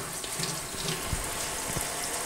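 Tap water runs steadily into a sink while a machined 2-stroke engine cylinder is washed, a close, continuous splashing flow with no talking.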